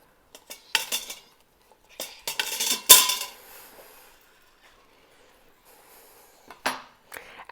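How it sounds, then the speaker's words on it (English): Cooked whole spaghetti squash shifted with metal tongs onto a cutting board in a home kitchen after Instant Pot cooking, giving a few scattered clinks and clatters, with one sharp knock near the middle and softer handling noises between. "I'm going to use tongs to transfer the cooked squash to a cutting board"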